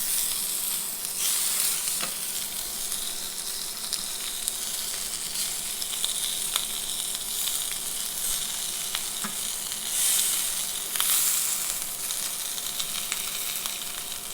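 Lamb fat-side down searing in a hot pan, giving a steady, close, continuous sizzle and crackle that holds throughout with small pops and no voices.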